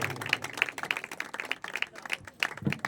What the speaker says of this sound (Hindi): जोरदार तालियां रूह कुद्दस के लिए जो हमारा मददगार है